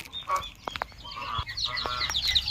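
Several backyard chickens cluck and chatter close by while being fed, short overlapping calls mixed with a few sharp pecking clicks.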